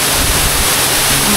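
Ubot Falls, a waterfall in Aurora, gives a steady, loud, close rush of falling water, a dense unbroken roar with no pauses.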